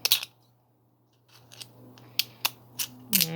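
Scissors trim excess plastic off a small Kenner Micro Egon action figure at a workbench, making several crisp, close snips spaced out over a few seconds with brief quiet gaps between them.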